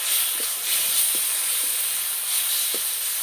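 A ground mustard and ginger paste fries in a hot pan for a Malabar spinach and fish-head dish, giving a steady, even sizzle and hiss with no voices.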